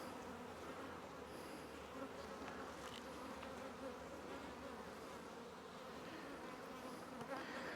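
Honeybee swarm buzzing in a hive, a dense continuous hum of many wings, steady and close with small flickers as individual bees pass near.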